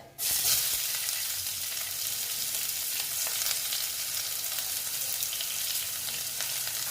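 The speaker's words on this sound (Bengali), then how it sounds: "দেখো পেঁয়াজগুলো আমি এখন ভেজে নেবো" Onions frying in oil with black cumin seeds, a steady, loud sizzle that starts abruptly and holds as a dense hiss throughout, with no voices.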